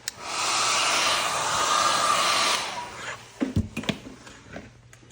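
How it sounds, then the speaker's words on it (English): A hair dryer blows with a steady whooshing roar close by, then cuts off, followed by light handling clicks and rustles. "I think we need to warm it up first with the dryer."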